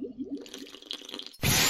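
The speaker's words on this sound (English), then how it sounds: "Water dispenser. Let's get a cup of water." Water from a dispenser fills a cup in the Roblox game Hospital Tycoon, with a short run of gurgling, dripping liquid sounds that ends in a loud burst of noise.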